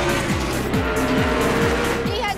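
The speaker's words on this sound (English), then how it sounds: "gentlemen, unless you're scared, start your engines!" Several race car engines fire up together for a stock car race, a loud, dense roar with repeated rising revs sweeping up one after another, a voice faintly audible in the mix.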